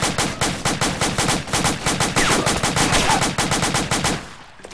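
Sustained machine-gun fire in a video game, a steady rhythmic stream of loud, evenly spaced shots that stops abruptly just before the end.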